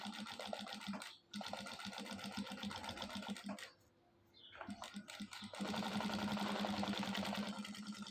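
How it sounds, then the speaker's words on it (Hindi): Sewing machine stitching a single line of silk thread with a double-threaded bobbin, running in loud, fast, steady bursts that stop briefly twice before speeding up again, close by. "ये ऐसे सिलाई लगा लेनी है, सिंगल सिलाई चलेगी।"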